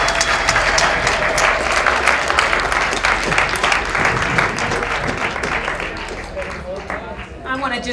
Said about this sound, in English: If we could get one round of applause for all our speakers.